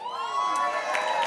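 Crowd at a Puerto Rican Heritage reception hosted by the mayor cheers and whoops for the guests, a continuous loud swell of voices and applause filling the room.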